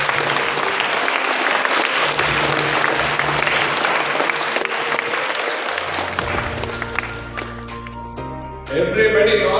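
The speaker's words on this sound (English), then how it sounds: "Give a big round of applause." An audience applauds as a student comes up to the stage, loud and continuous clapping that thins out after several seconds as music-like tones and a voice take over at the end.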